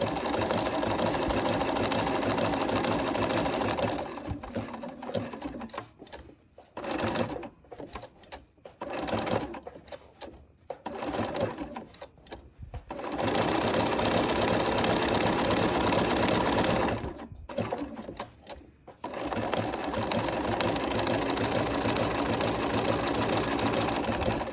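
Sewing machine stitching a quilt up close, running in long steady buzzing bursts broken by short stop-start stitches and pauses to pivot at the corners.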